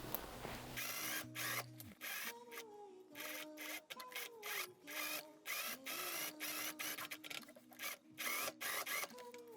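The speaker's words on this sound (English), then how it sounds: "And now I'm just gonna sew that onto the neckline." Sewing machine stitching fabric onto a dress neckline, running in several bursts of rapid mechanical whirring separated by short pauses, close and clear with no talk.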